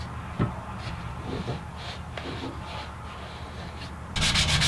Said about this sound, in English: Now I'll just do some final hand sanding to round over the edges and smooth up any sharp corners.